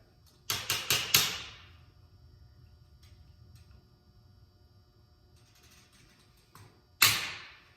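Sharp metallic taps knocking old bushings off a Yeti Snow MX suspension skid: a quick burst of four close raps, then quiet, then one more ringing strike near the end, with no talk.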